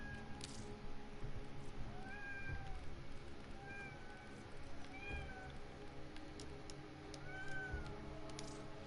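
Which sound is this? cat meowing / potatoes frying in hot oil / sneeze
cat meowing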